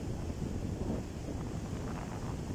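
Wind blusters across the microphone in a low, continuous roar by the Baltic Sea at Palanga, Lithuania, during a storm, with a faint wash of surf beneath.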